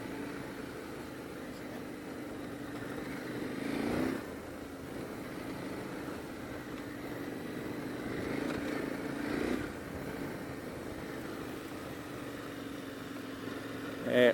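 A KTM motorcycle engine hums steadily in second gear while riding out along a track, a constant mid-pitched drone at moderate distance with slight swells, under wind noise.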